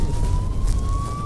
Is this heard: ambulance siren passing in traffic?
yes